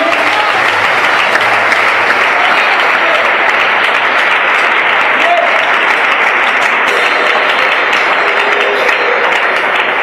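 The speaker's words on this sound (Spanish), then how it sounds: "¿Cuántos aplauden a Cristo esta noche?" Loud, continuous applause from a church congregation during an evening sermon, a thick wall of clapping with faint shouts mixed in, unbroken throughout.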